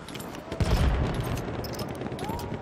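Gunfire in the World War I shooter game Battlefield 1 during a multiplayer match: a heavy shot boom followed by distant crackling rounds and a rumbling battle ambience, fairly faint overall.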